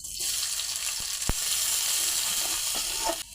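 Onions sizzling in hot oil on a clay stove, a close, steady frying hiss with a couple of sharp knocks, cutting off abruptly at the end.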